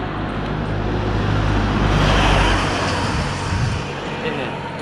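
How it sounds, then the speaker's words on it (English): Vehicles, pickup trucks among them, pass along a road at night with a loud broad roar that swells and fades as they go by. A low rumble runs underneath and a voice speaks over it. "it's like 3 pickup trucks now that pass by"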